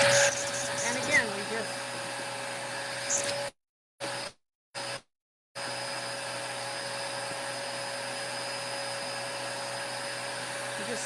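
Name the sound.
vacuum sweeper hose sucking up cut foam pieces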